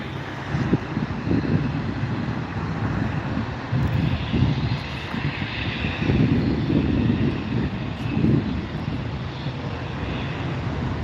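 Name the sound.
Bombardier Challenger 350 jet aircraft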